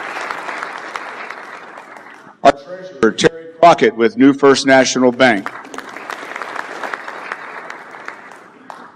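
An audience at a chamber of commerce legislative preview breakfast claps in a steady wash of applause, which briefly dies down while a voice speaks over a microphone, then swells again.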